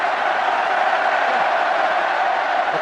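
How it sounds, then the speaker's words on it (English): A loud, steady roar from a rugby stadium crowd at the 2010 Wales versus South Africa test match, cheering to lift the Wales team, sustained and dense throughout with no break. "The crowd now trying to raise the team"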